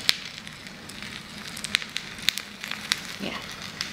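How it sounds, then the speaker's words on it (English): Incense lit with a blowtorch, burning with a faint, steady crackle and occasional sharp little pops scattered through a soft background hiss, quiet and close, with no talking. "Now it's like, you can hear the popping noise."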